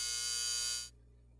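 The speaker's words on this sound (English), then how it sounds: "Why is Alfred using the buzzer at the gate?" A gate buzzer sounds as one steady, loud electric buzz lasting most of a second, then cuts off abruptly, leaving a faint hum.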